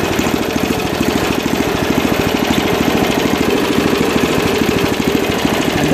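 An Ariens ST824 two-stage snow blower engine idles steadily up close, a loud, even mechanical chug with a fast regular pulse and no talk over it.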